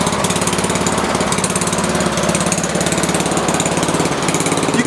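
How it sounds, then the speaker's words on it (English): A Honda HRS21 push lawn mower's gas engine runs steadily up close, a loud, even, rapid putter that continues without a break. "I put gas in it, I charged the battery, and it fired right up."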